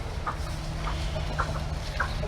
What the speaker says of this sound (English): Here's one of the older hens that's still molting.